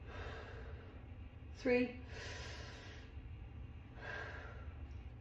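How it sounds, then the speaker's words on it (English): A person breathes in and out through the mouth in slow, audible breaths, with a sharp intake followed by longer exhales, close and quiet, while a voice briefly counts. "we're gonna breathe 6 times in through the mouth and out through the mouth"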